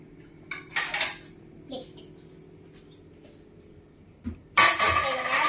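Plates and cutlery clink in a kitchen while an egg bread sandwich is made, a few light ceramic and metal knocks ending in a brighter rattle, with a voice talking nearby.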